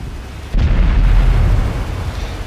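A tank is destroyed in a World of Tanks-style battle game, a sudden loud explosive boom that rolls into a rumbling low tail lasting about two seconds.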